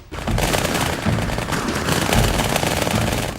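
Two automatic weapons fired at once in the Halo 2 video game, a dense continuous rattling burst of rapid gunfire, loud and close, running almost the whole time with no talk.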